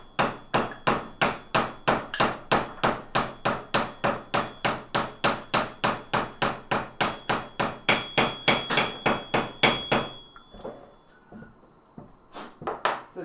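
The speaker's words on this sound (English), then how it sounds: "when you tap, you're tapping only on this inner ring" Light hammer taps on the inner ring of a table saw motor bearing being seated, a steady rapid series of about forty sharp, close metallic knocks for ten seconds, then a few scattered softer knocks after a pause.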